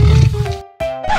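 A cartoonish lion roar rings out in a children's animal-sound toy or game, a short loud tonal burst that breaks off briefly and resumes with a rising pitch.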